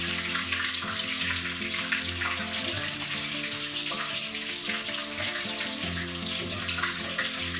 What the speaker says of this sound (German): Nochmal kurz frittieren, so wird die Kruste richtig knusprig.